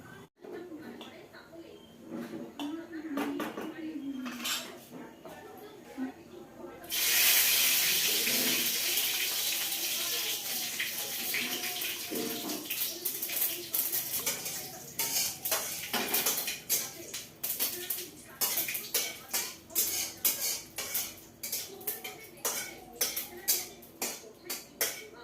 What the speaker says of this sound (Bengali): তো বেগুনি বানাবো, এই যে ব্যাটার তৈরি করে নিচ্ছি